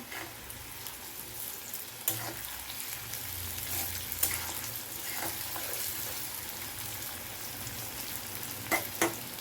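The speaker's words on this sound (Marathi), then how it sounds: "गॅस फास्ट ठेवून त्याला फ्राय करून घ्यायचा" Bitter gourd (karela) slices fry crisp in a pan over a high gas flame, with a steady, fairly quiet sizzle and a few faint utensil clicks, no talking.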